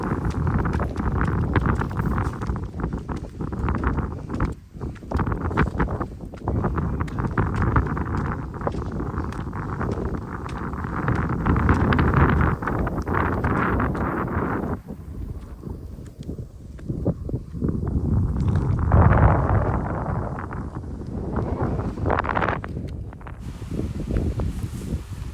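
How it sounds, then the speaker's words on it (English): Steady wind gusting across an open mountain slope in Sri Lanka, a continuous broadband rush that swells and dips over the whole stretch, close to the microphone with no talking. "when walking there, you can hear the sound of the wind."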